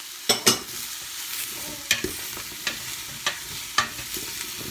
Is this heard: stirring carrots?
yes